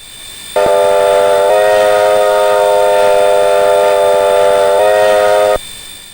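Locomotive horn from a DJ-class engine in Train Simulator on the Midland Line, Springfield to Aickens, sounding loud and steady as a multi-tone chord for about five seconds, with a slight pitch shift partway through and a diesel rumble underneath.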